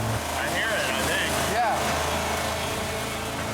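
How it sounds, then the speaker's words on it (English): Car engine running with a penny in the carburetor: a continuous mid-pitched hum and rumble lies under people talking in a noisy outdoor test setting. "That penny is taking a pounding, but the engine's still running."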